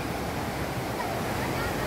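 A Konkan waterfall gurgling and rushing, a broad steady roar of water filling the scene, loud and constant, with some wind noise on the microphone.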